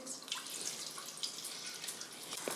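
Water pours steadily into a pot of cloves and small cardamom pods with a soft, continuous splashing trickle, fairly quiet and close.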